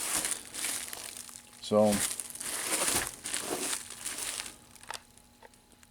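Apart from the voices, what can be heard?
cutting and crinkling plastic wrap off circuit boards with knife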